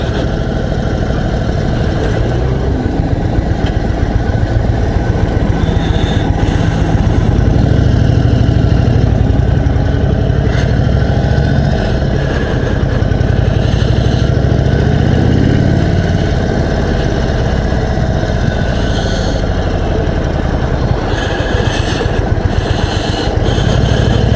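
A 2021 Indian Chief Dark Horse, a big custom cruiser motorcycle, runs with a deep, steady engine rumble close by, idling and revving gently throughout with no talking.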